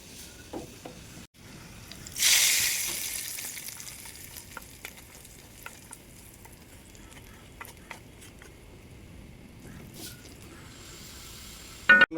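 Sliced onions hit hot oil in a pan for a beef and green plantain dish, a loud burst of sizzle that slowly fades into a steady, quieter frying hiss with small pops and occasional utensil clicks.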